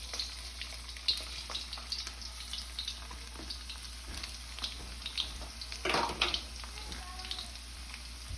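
Garlic sizzling in hot, not-yet-smoking oil in a pan while making pork fried rice: a steady crackling hiss throughout, with brief louder spurts of sizzle and a few faint clatters.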